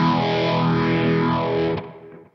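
One loud, distorted electric guitar chord from a song is strummed upward and rings out, then fades quickly.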